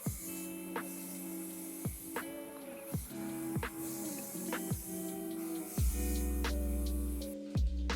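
Hissing spray from a TEMPTU One airbrush applying glowing-complexion makeup to the cheekbones and collarbones, a steady close airy hiss broken by short pauses and trigger clicks, running alone without talk.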